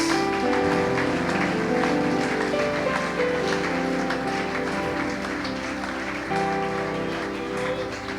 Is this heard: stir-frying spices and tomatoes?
no